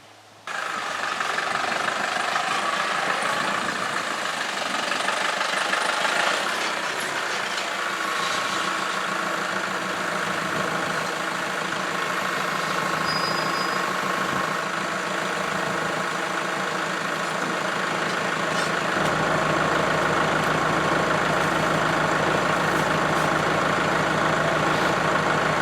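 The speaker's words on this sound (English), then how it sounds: "And then I'll get my tractor and roll the log in here." A tractor engine idles steadily at a homemade sawmill, a loud continuous low rumble with a rough, knocking throb that holds throughout, with no voices.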